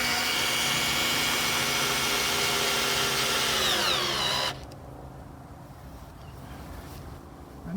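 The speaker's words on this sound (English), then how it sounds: "this is only a cheap tool station drill" Cheap Toolstation cordless drill driving screws, a loud whirring motor that winds down after about four seconds, followed by quieter background.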